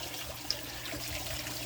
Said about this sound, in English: There is a pump right over there under that flat flagstone, a 400-gallon pump